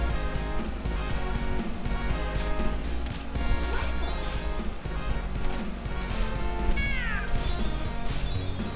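A cat meowing in the Moonwalker video game, short cries standing out briefly over loud, busy game music and effects.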